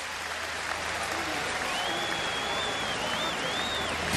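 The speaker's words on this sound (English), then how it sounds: "Really nice round of applause as he gets up" A big stadium crowd at a Notre Dame versus USC college football game applauds as an injured player gets up, a steady wash of clapping and crowd noise with a whistle-like tone sliding through partway.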